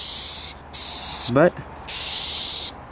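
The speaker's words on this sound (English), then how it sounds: "These tips do not spray optimum, like I've said many times." An aerosol spray paint can hisses loudly in two long bursts while touching up a truck, separated by a short gap in which someone says a word.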